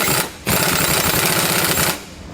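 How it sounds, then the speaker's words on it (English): A socket wrench tightening anti-sway bar hardware on a 2016 Ford F-53 with a 1 1/8 inch socket, giving a dense, continuous ratcheting clatter in two sustained bursts separated by a short pause, close up and alone. "Now we can go back and tighten down our hardware here. We're going to use our 1 1/8 inch socket again."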